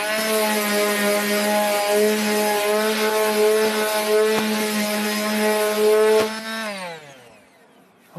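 A power sander smooths wood with a steady loud motor whine, holding a constant pitch for several seconds before spinning down and trailing off at the end.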